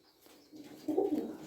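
A fancy pet pigeon, a small-beaked hen of a fancy breed, gives a soft, low coo that swells over about half a second, close by and alone.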